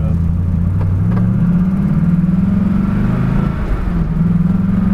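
Engine of a 1000hp twin-turbo modernized Trans-Am roaring under hard acceleration from inside the car, a loud, steady, droning growl that rises in pitch and holds, with a brief dip partway through.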